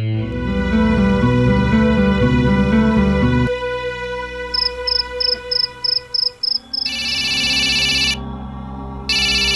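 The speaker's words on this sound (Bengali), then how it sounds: "পঙ্কজ ফোন করেছে নিশ্চয়ই।" A telephone rings with a bright electronic ringtone in repeated pulsing bursts, first as melodic tones, then as rapid chirping rings, loud and alone with no talk.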